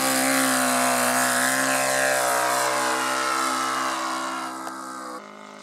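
A Laser 160 V-twin engine on a Storch model airplane roars loudly at high revs during takeoff, its steady droning tone shifting slightly in pitch and fading somewhat toward the end.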